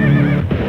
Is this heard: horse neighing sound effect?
yes